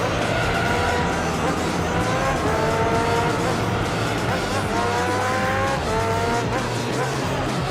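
Race cars running laps on a track in Gran Turismo 3, a continuous loud engine drone with rising and falling gear-shift whines and tire noise throughout.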